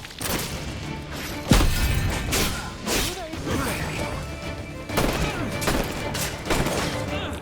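A gunfire volley and powder-keg blasts in the naval action game Assassin's Creed Black Flag make a busy, loud mix of cracks and sharp impacts with a few stronger hits, amid steady game noise and some voices.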